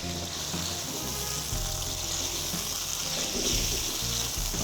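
Red chili frying in oil in a karahi, a steady broadband sizzle with low bubbling that holds close and loud throughout, with no voices.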